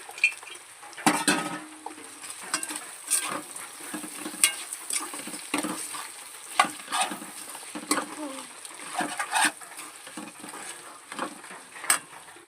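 Dried prawns go into a pan of frying taro curry, and a low sizzle runs under repeated spoon scrapes and clinks against the pot, close and moderately quiet with no talking.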